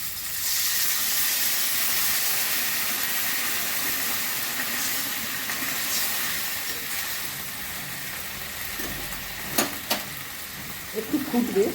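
Water poured into a pan of fried eggplant, producing a loud broad hiss of steam and sizzling that slowly settles, followed by a few sharp clinks from a utensil near the end.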